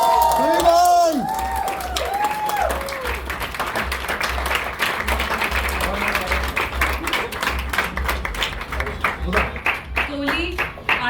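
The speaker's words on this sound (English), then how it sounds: "Big round of applause. Everyone!" Crowd applause and cheering at a movie premiere in Dubai, with steady clapping, whoops and shouts, music playing and voices calling out over it, the clapping growing sharper and more distinct toward the end.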